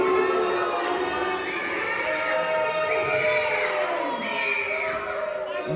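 A wrestling event crowd at Evercon roars steadily after a pin, with shouting, whoops and dismayed cheering from many voices throughout, loud and sustained without a break.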